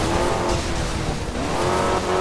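A car in the video game Alarm für Cobra 11 drives loud and close, its engine droning steadily while the tires squeal and skid throughout.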